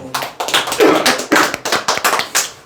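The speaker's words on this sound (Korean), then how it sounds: "네, 박수." Brief, lively hand clapping from a small group, with loud, close, irregular claps overlapping in quick bursts for a few seconds.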